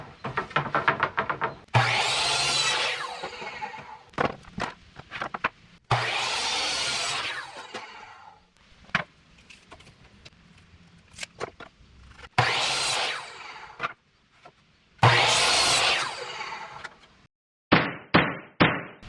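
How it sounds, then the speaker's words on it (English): Simple 1x4 wood boards are sawn into drawer pieces: loud, rasping cutting strokes in several separate bursts of one to two seconds, with knocks and clatter from handling the boards in between. "I thought it'd be good to cut the draw pieces as well. This was just going to be made out of some simple 1x4s."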